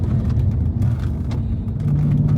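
Audi RS4 B7 with a six-speed manual accelerating hard, a deep, steady engine rumble heard from inside the cabin, loud and continuous with no talk.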